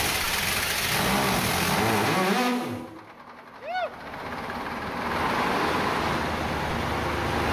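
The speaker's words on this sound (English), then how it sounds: "So take two for number two generator." A ship's number two diesel generator: a loud engine drone dips and falters briefly, then picks up again into a steady run, with people talking nearby.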